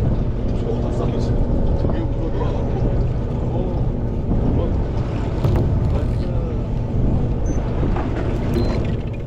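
Strong wind buffets a fishing boat at sea off Taean during autumn flatfish fishing, a steady loud rumble of wind noise and engine drone with waves and occasional knocks, continuous throughout.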